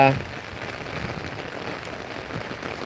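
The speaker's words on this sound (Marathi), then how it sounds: "बघा पाऊस बघा" Rain falls steadily in darkness as an even, close hiss that persists throughout without pause.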